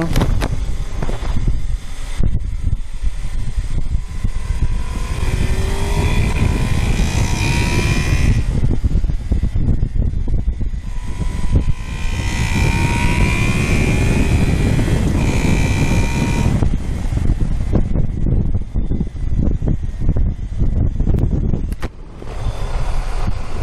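A Honda VFR800X Crossrunner motorcycle engine revs up smoothly and falls back in several swells, loud and close, with heavy wind buffeting over the microphone.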